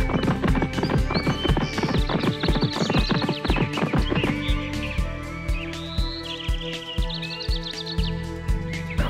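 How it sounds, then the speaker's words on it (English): Rhythmic hoofbeats of a galloping horse, close and loud, with a horse whinnying over them and faint birdsong. "The horse started running even faster."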